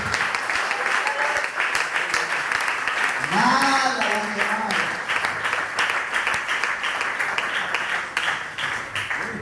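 A church congregation claps in steady applause for the Lord during a Bible study on Hebrews, with a shout of praise rising briefly above it and a preacher's voice talking over the clapping.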